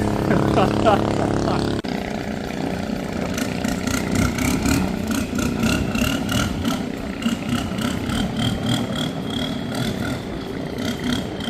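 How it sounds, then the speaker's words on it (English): A loud engine revs and roars through a throaty exhaust, the pitch climbing and holding steady with a rough, rumbling tone. "it's got the loudest exhaust known to mankind"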